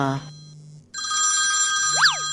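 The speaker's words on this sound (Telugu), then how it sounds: "ఈ టైంలో ఎవరు ఫోన్" A telephone rings with a bright electronic tone that briefly rises and falls, following a moment of speech and a short pause.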